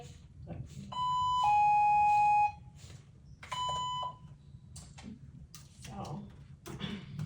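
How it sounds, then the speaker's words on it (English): A doorbell signaler rings with a two-tone electronic chime, played once and then partly again, clear and fairly loud over a room with people talking nearby. "Doorbell ringing."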